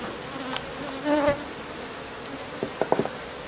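Bees buzz around a beehive on Roatan, a close, wavering hum that swells briefly and then gives way to a few sharp little bursts near the end, with no talking.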